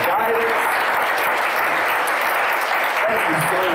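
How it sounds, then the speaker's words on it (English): An audience at a talk applauding steadily throughout, dense clapping that stays loud and even, with a brief lull near the end. "join me in giving both of these legends a round of applause"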